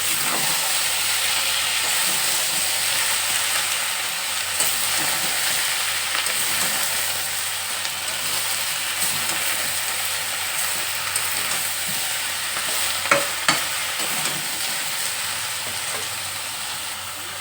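Pui greens curry with green chillies sizzles and hisses steadily in a pan while being stirred, a loud continuous frying noise with occasional scraping knocks near the end and no talk.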